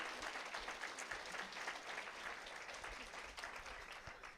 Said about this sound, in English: let's give a special round of applause to our crew